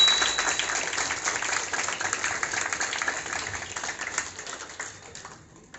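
An audience at a Mahashivratri function claps loudly to welcome guests, a dense, continuous burst of applause that holds steady and then tapers off near the end.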